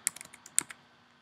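Short burst of typing on a computer keyboard, a dozen or so quick, light key clicks in an uneven rhythm, close and fairly quiet, then trailing off into silence.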